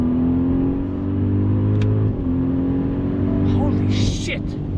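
A 2025 Audi RS Q8 Performance SUV accelerating hard on a racetrack, its engine note climbing loud and close through a gear change, then pulling again with a rising roar.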